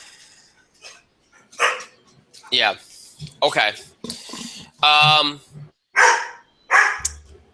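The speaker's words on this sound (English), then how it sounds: "My dog apparently wants to be part of the show tonight." A pet dog barks in short bursts while people talk over a wrestling show discussion, the barks mixed in with the voices at close range.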